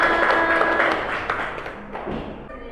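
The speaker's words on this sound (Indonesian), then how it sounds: "tepuk tangan kanggo kelompok Eranian" A classroom of students in a Javanese-language lesson claps briefly for a student group, a short burst of scattered hand claps fading out within a few seconds.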